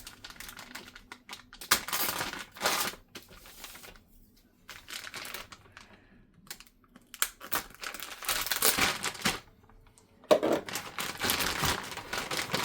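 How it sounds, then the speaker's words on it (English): A GRENER LiFePO4 12.8 V 100 Ah battery is pulled from a plastic bag, with close, quiet bursts of crinkling and rustling separated by brief near-silent pauses. "let's get it out of the plastic bag."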